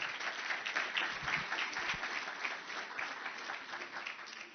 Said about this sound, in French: Je vous demande aussi d'applaudir tous nos intervenants